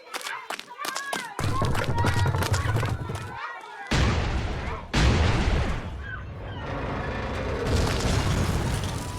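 Booming explosions and thuds in the video game Family Guy Back to the Multiverse, with sharp hits at first, then heavy blasts and rumbling, mixed with game effects and voices talking.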